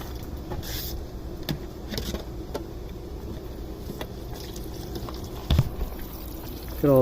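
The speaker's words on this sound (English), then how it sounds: "Look at all this water coming out." Water gushes and splashes steadily out of a clogged sunroof drain tube on a 2013 Cadillac SRX, a continuous pouring sound close by, with a brief louder burst near the end.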